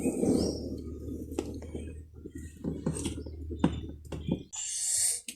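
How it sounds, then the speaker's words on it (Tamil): Shrill chirps and calls from squirrels and sparrows, some short and repeated, others drawn out, over a low background rumble in a village. "அதோட அங்கே அணில் சத்தம், குருவி சத்தம் எல்லாம் கேட்குது ஒரு பக்கம்."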